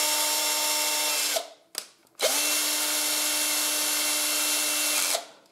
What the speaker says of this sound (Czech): Ta akuvrtačka má docela silný motor